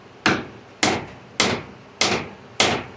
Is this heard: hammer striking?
yes